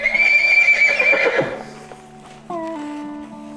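A horse at a shelter gives a loud, close whinny that trails off, followed by a shorter second neigh, with faint hoof clops in between.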